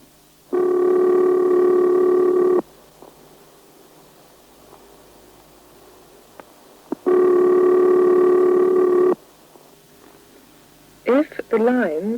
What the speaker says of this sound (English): The ringing tone you will hear on most calls you dial to the United States of America will sound like this.